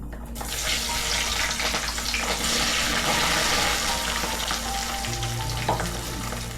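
Small onions hit hot oil seasoned with cumin in a pan for a traditional South Indian country chicken dish, a loud, steady, dense sizzle that runs unbroken from start to finish with no voices.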